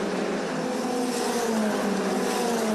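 A Formula Regional single-seater race car on a quick qualifying lap in the Middle East championship, its engine holding a loud, steady high-revving drone with a slight pitch shift as it passes close by.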